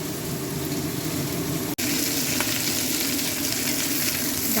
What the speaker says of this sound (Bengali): তেলের মধ্যে গোটা গরম মশলা দিয়ে যেটা সিদ্ধ করে রেখেছি এঁচোড়, সেটা ঢেলে দিলাম, দিয়ে একটু ভাজা ভাজা হবে